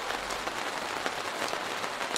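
Steady virtual rainfall in a Facebook Spaces VR scene, a soft, even patter of drops that fills the whole stretch with a continuous hiss.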